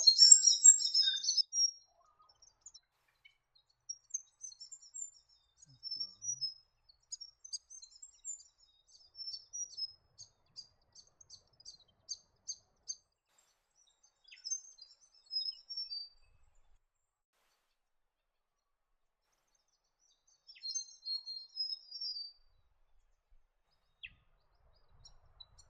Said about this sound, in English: Another common bird chasing insects in the New England woodland is the grey fantail.